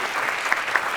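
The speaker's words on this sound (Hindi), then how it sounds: "क्या तालियां होनी चाहिए।" Studio audience applause at a live comedy show, a steady dense clapping wash throughout with a couple of brief sharper peaks, no talking over it.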